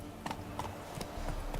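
Roach the horse galloping in the video game The Witcher 3, a rhythmic series of soft hoof clops at a quick, even pace, fairly faint over a low background hum.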